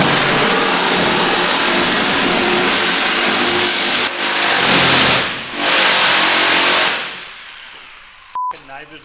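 Nissan GTR race car engine revving hard and bouncing off the rev limiter, a loud, sustained roar with brief dips before it drops away, followed by a short sharp click near the end.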